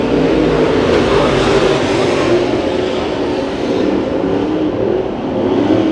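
Late model race cars lapping Santa Maria Raceway during heat races, a steady loud roar of several engines blending into one continuous drone with no gaps.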